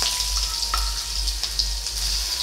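Green chili and garlic paste frying in hot oil, a steady loud sizzle with soft crackles and light stirring throughout, no voices.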